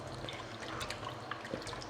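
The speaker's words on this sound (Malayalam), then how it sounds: "കുറച്ച് വെള്ളവും കൂടെ നമുക്ക് ഒഴിച്ച് കൊടുക്കുവാണേ" Water poured into a pot of tamarind-leaf rasam in a Kerala village kitchen, a faint steady trickle with soft drips and splashes, close and quiet, no talk.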